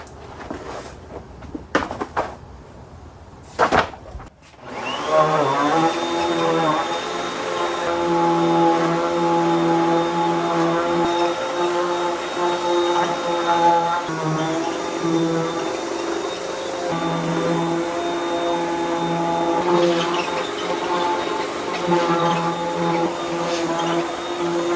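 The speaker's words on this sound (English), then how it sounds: "Vacuum time." A vacuum cleaner cleans out a 2010 Ram truck outdoors, starting after a few clunks and rising into a loud, steady whine with a high motor tone, its pitch shifting slightly as the nozzle moves around.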